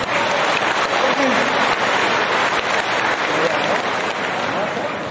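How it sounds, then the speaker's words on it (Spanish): Steady, dense applause fills the room after a municipal vote names a new health councillor, loud and even throughout with a faint voice or two mixed into the clapping. "Un aplauso"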